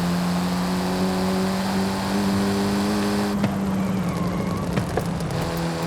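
A Mini John Cooper Works GP with a four-cylinder turbo engine and front-wheel drive hums along steadily in the video game Forza Horizon 5, its drone shifting partway through as the car keeps driving.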